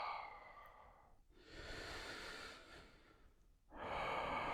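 Slow, deep breaths drawn in and let out while sitting in an ice bath, long airy inhales and exhales in three swells with brief pauses, close and unaccompanied by talk.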